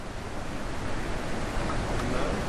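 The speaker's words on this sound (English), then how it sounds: "Crossing the waterfall again." A waterfall in the puzzle game The Witness roars as a steady, dense wash of broadband rushing water, constant and fairly close, with no voices over it.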